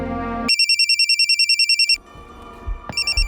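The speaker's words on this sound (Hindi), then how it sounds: "पंकज का फ़ोन है।" A phone ringtone sounds twice in fast pulsing electronic bursts, loud and close, with a brief gap of quieter room noise between the two.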